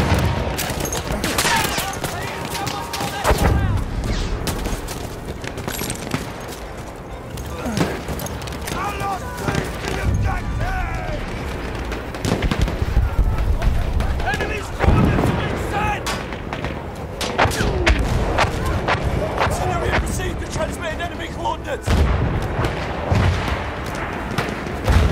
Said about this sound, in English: artillery! Enemy machine gun